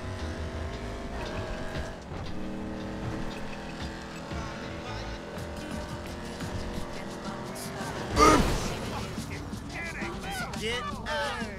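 Car in GTA 5 driving toward a pedestrian, with a continuous engine and road roar, a loud sudden impact-like burst partway through, and someone talking over much of it.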